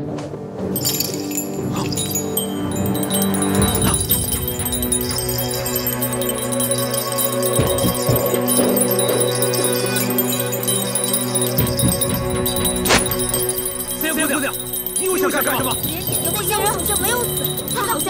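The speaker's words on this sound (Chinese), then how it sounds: "我用铃声控制了他们的心，他们现在是我的人。" A hand bell rings in a Chinese martial arts drama, wielded to control people's minds; its bright metallic ringing sustains over a dense, loud score with voices mixed in.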